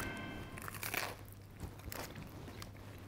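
A crispy tuna melt sandwich with crunchy toasted bread and melted cheese being bitten, giving a close, dry crunch followed by a few softer crackling chews under a low steady hum.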